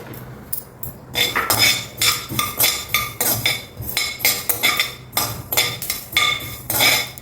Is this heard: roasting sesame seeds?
yes